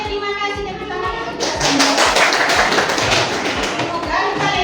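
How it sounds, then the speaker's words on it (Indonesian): Children in a classroom perform a rhythmic spirit clap, with steady, evenly spaced claps and thumps building in loudness, and voices chanting along over them. "Tepuk semangat."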